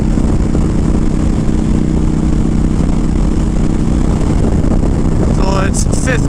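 A Honda Fury motorcycle cruises on a windy freeway in fourth gear at about 70, giving a constant loud engine drone with heavy wind rush over it.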